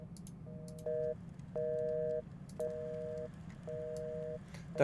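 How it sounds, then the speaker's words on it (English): Off-the-hook phone tone in the horror game Paranormal Night Shift, a repeating electronic two-tone beeping in short evenly spaced bursts over a quiet background hum. "The phone's been knocked off the hook."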